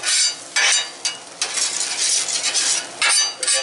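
Olive oil sizzles on a Blackstone griddle while a cheesesteak is being made. The broadband hiss is loud and close, swelling in bursts as the oil is spread and stirred, with light scraping of utensils and no talk.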